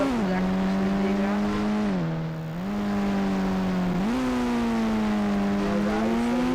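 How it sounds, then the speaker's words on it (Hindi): Ford Endeavour engine in the video game Indian Bike Driving 3D: a steady synthetic drone that drops in pitch twice, as if shifting gears, then climbs again, with no talking. "एंडीवर कार है वो काफ़ी अच्छे से चल रही है।"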